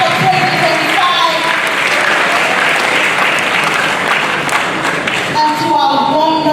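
Graduates of the class of 2025 applaud at a graduation ceremony, a dense, steady roar of clapping that fills the whole hall, with faint voices mixed into the crowd.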